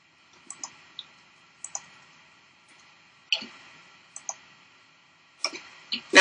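A computer mouse clicks sharply at close range, mostly in pairs and small clusters spaced a second or so apart, against near silence.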